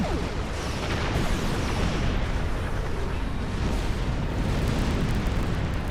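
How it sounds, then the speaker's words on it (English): A starship in a space combat video game fires agony cannons and phasers in a dense, continuous roar of booming weapon bursts and blasts. The noise stays loud and unbroken for the full six seconds, with no talk. "I put agony cannons and phasers on this because I kind of like them."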